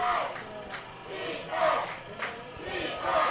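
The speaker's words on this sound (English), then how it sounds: "So Chana defense now coming from the home crowd." Home crowd at a postseason high school football game, MMCRU hosting KP-RV, chanting "defense" in rising and falling waves of massed voices, steady and fairly loud across the stands.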